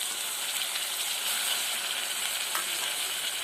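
Tomato and curry leaves sizzle steadily in a hot pan for a Kannada-style horse gram palya, a loud, continuous broadband frying hiss with no talking.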